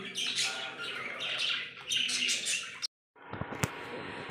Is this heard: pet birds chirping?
yes